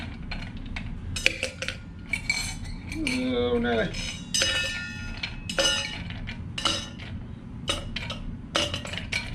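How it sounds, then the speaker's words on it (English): Ice cubes clinking and rattling into a metal cocktail shaker, a series of sharp bright clinks scattered across the clip, with a brief spoken remark among them. "Let's bring in the shaker. Slap some ice cubes in there."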